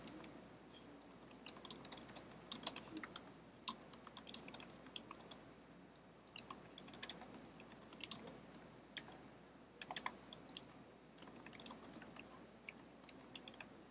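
Keys tapped on a computer keyboard while entering text for a pin design, an irregular run of faint clicks over a low background hum, with no talking.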